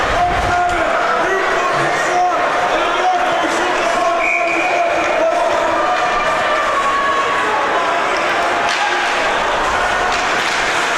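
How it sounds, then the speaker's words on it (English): Spirited crowd cheering and shouting in an arena during a college ice hockey game, a loud, sustained roar of many voices with whistles and yells rising and falling throughout. "Hearing the wonderful sounds of the crowd"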